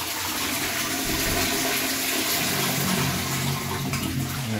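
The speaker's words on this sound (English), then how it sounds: "Not a bad flush to say it's a Wickes pattern." A Wickes dual-mode toilet flushes in a steady, full rush of water that runs loud and close throughout, with no talking over it.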